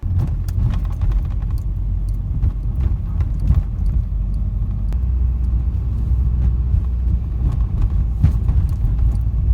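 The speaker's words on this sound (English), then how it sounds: "I'll put a little clip of me hitting like some bumps or something on the road." A Subaru WRX interior rumbles with road noise while the suspension thumps and knocks over bumps, a string of sharp jolts under a constant low drone.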